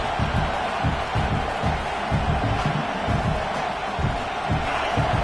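A stadium crowd at a football game roars continuously during a red zone defensive stand, a dense wash of cheering and yelling with rhythmic pulses of noise, loud and sustained.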